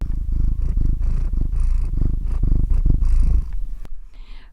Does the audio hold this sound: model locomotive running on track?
no